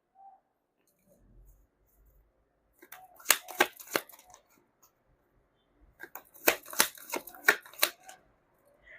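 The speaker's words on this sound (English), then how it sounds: "You saw me shuffle as always." Bursts of rapid crisp riffling, two separate rounds of tarot card shuffling, close and fairly quiet against near silence.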